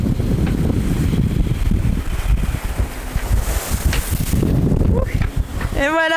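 Strong wind buffets the microphone in a constant roaring rush aboard a sailing boat at sea in rain, with rustling and splashing underneath and a brief warbling tone at the very end.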